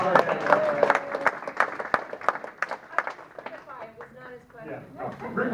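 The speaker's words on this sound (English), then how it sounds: "Let's have a round of applause for Jimmy" Residents at a community forum give a round of applause, scattered claps rising briefly at the start and then thinning out, mixed with talking voices and room noise.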